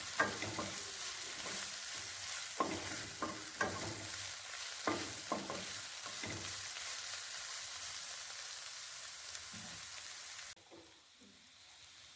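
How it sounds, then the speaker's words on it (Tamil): Curry leaves sautéed in a pan for sardine curry, a steady close sizzle of frying with occasional stirring scrapes and taps, continuous and fairly quiet, no voices. "போட்டு நல்லா வதக்கி விட்டுக்கோங்க."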